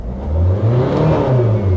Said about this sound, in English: We've got a bit of a misfire, guys.